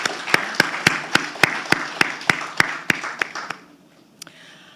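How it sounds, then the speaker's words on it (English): Scattered audience applause after a lecture by Dr. Carol Hordatt Gentles, heard as about a dozen separate, evenly spaced claps that stop abruptly, followed by a brief stray tap. "Let's give her another round of applause."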